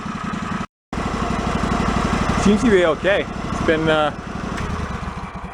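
A yard-sale John Deere engine running steadily after a flooding repair, its continuous mid-pitched drone nearby and unbroken apart from a brief cut, with someone talking over it partway through.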